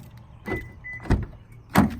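Three short mechanical clunks of Toyota Tundra pickup truck door locks unlocking, close and distinct, spaced about half a second apart with quiet between.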